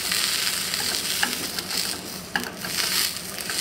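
Steady crackling sizzle of a Zaycon hot dog frying in a dry pan with no oil, with a few sharper pops over the constant hiss.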